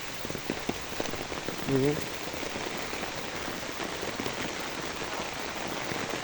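Heavy rain falls steadily in a village setting, a dense, even patter on surfaces that holds through the whole stretch, with a brief faint tonal sound partway through.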